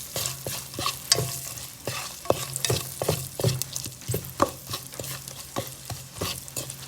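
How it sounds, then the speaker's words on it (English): Pimento, garlic and ginger sauté in a curry pan, a steady sizzle broken by repeated spoon scrapes and taps in an irregular stirring rhythm, with no talk. "Now I'm adding my pimento, garlic, and ginger to the curry. And we're just gonna saute this down a little."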